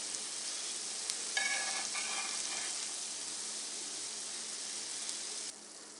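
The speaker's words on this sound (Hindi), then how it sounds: "जो बाकी रह गए हैं उनको भी फ्राई कर लेते हैं।" Zucchini kebabs shallow-frying in a pan give a steady close sizzle, with brief bursts of crackle partway through and the hiss easing slightly near the end; no one speaks.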